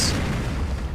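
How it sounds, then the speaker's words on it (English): A naval broadside of heavy shells lands in the naval warfare game Victory At Sea Atlantic, a loud low rumbling boom that starts with a sharp crack and rolls on steadily. "Oh, another broadside lands"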